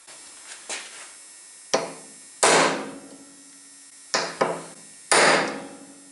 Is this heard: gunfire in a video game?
no